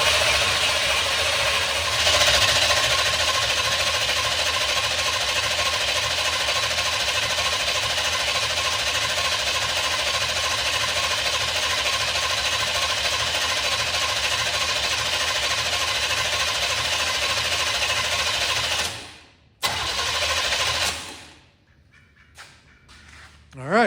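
A 1970 GMC 2500 truck engine idles nearby with a steady, rhythmic rumble that runs for about nineteen seconds before cutting off, followed by quieter handling sounds.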